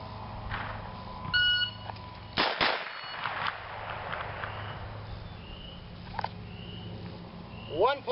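Pistol shots fired from the hip without aiming, a few sharp, sudden reports spaced irregularly through an outdoor scene, loud and near.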